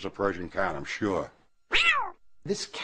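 A Persian cat meows several times in drawn-out, wavering cries, then gives a louder, higher meow after a short pause, close by.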